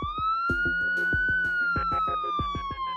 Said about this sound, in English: It was the sound of a police car.